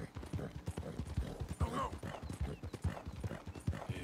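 A horse's hooves clip-clopping at a brisk trotting rhythm in Red Dead Redemption 2, close and steady, with someone talking over the hoofbeats.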